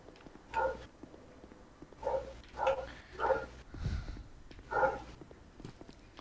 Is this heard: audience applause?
no